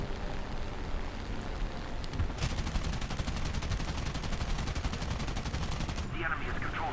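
Tank weapons fire in the War Thunder game with an M36 tank destroyer: a long, rapid, evenly spaced burst of shots over a constant background hiss, fairly loud.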